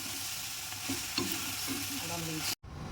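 Curry leaves sautéed and stirred in a pan of hot oil while making a chana dal chutney, a steady sizzle with scraping stirs throughout, close and alone, ending in a brief cut.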